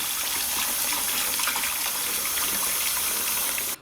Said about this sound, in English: go ahead and empty out the water